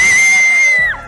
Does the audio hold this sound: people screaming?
yes